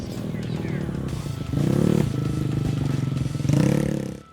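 A TVS Ntorq SXR rally scooter runs at speed with a loud, racy buzzing engine note that surges twice in throttle bursts, recorded close with rattling and wind noise.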